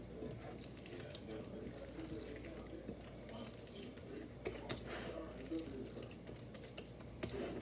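Water from a tap pours and splashes steadily into a bowl of meatloaf mixture, a continuous close running sound with a few small clinks.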